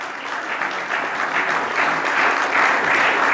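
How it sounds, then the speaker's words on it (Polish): Crowd at an award ceremony clapping for the nominees, a continuous roomful of applause that swells slightly louder toward the end, heard alone without talk. "Brawa dla nominowanych."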